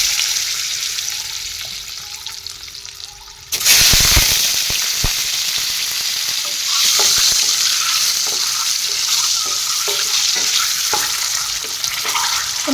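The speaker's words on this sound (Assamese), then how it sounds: "প্ৰথমতে কণীকেইটা ফ্ৰাই কৰি লওঁ।" Eggs frying in a pan for an egg curry start with a sudden loud sizzle partway in, settling into a steady crackling hiss with scattered pops and occasional stirring clinks.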